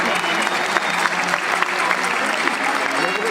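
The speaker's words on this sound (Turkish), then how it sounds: "alkışlarınız için çok teşekkür ediyoruz" An audience applauds at a Turkish folk music concert by the Çayyolu Turnalar Türk Halk Müziği Topluluğu, with steady, dense clapping from a crowd throughout and voices mixed in beneath it.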